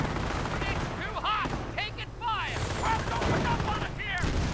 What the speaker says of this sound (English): Several assault guns supported by infantry moving in from every conceivable angle